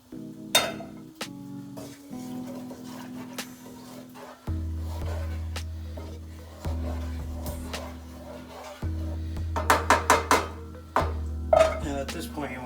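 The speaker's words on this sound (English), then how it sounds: "at this point you want to whisk it in" Milk whisked into a flour roux in a pan for a white sauce, with repeated scraping and clinking strokes of the whisk against the pan, some soft sizzling and bursts of quicker stirring, up close.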